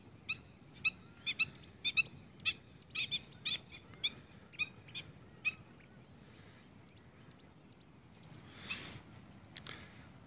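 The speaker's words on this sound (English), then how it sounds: "Bird life is incredible." Birds call near the St. Lucia estuary, once the Mfolozi River mouth, in a series of sharp, high chirps and whistles spaced through the first half, then a quieter stretch with a brief rustling burst, distant and faint.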